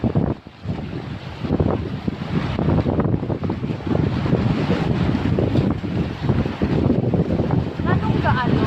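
Gusty sea wind buffets the microphone in a continuous rough roar, with wash from the water beneath and people talking over it throughout.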